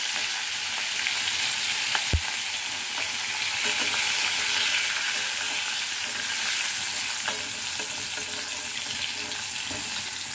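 Green chillies and garlic frying gently in a pan for a bottle-gourd leaf paste, with a continuous even sizzle and a single sharp knock near the start.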